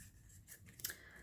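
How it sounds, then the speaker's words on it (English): Paper being snipped at an angle with scissors while making a gusseted envelope pocket, a faint, brief crisp cut or two close by in a quiet room. "I take my scissors and I just cut off at an angle on both sides."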